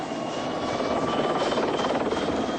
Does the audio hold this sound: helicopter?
yes